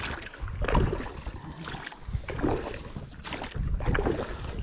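Small fishing boat drifting away from lakeside reeds on a wild lake during light rain, with water sloshing and lapping close by, gentle wind buffeting, and no talking.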